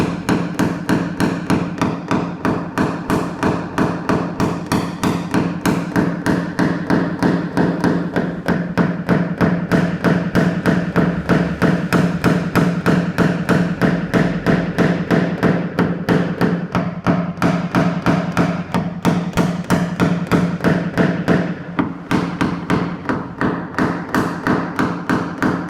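Small body hammer tapping out a creased dent in car bodywork panel, paintless dent repair, a fast, steady, evenly spaced stream of sharp metallic taps, close and loud, without any talking.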